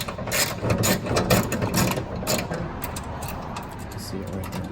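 A hand ratchet loosens a bolt on the trunk latch of a 2006–2010 Dodge Charger, giving a quick run of close, sharp clicking strokes that taper off into quieter, rapid ticking.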